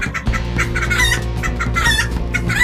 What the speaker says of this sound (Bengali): এদিকে বাকি মুরগিগুলো ভয়ে চিৎকার করে ওঠে।